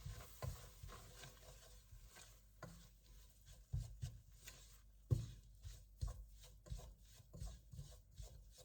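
Flour (maida) being stirred and scraped in a pan over a low flame, quiet intermittent rasping strokes with soft knocks of the spoon, faint and close.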